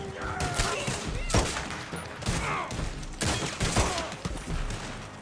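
Gunfire crackles in a Red Dead Online Wild West shootout, with repeated rapid volleys and single shots in a dense, continuous battle. A faint voice can be heard underneath.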